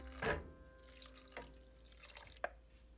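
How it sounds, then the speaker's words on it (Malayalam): Half a cup of rinse water from a grinding jar is poured into a pan of Kerala-style mushroom theeyal, giving a few close, short splashes and drips spaced apart, with faint background hum between them. "അരച്ച പാത്രം കഴുകി 1/2 കപ്പ് വെള്ളം കൂടി ഇതിൽ ചേർക്കുകയാണ്."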